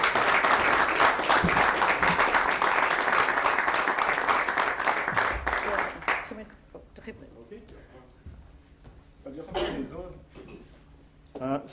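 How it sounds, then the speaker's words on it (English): A live audience gives a dense round of applause for a man being welcomed onto a stage, loud and steady for about six seconds before it fades out and a voice begins talking. "please give him a round of applause and encourage him on his stage"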